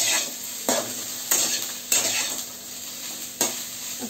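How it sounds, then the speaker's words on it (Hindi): Soybean chunks frying in a pan give a steady sizzle broken by a few sharp spatula scrapes and stirs at irregular intervals, close and clear. "सोयाबीन को अच्छे से बिल्कुल रेड करके फ्राई कर लेंगे।"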